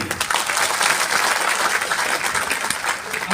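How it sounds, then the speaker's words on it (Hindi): Loud, dense applause from a seated audience of distributors at an insurance policy presentation, steady continuous clapping filling the room for a few seconds with no speech over it. "जोरदार ताली बजाइए"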